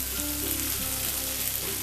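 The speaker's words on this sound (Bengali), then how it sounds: "এটাকে আমি ভালো করে একটু ভাজা ভাজা করে নেবো" Garlic cloves, chopped onion and large tomato pieces frying in a pan, giving a close, continuous bright sizzle with faint stirring scrapes and no voices over it.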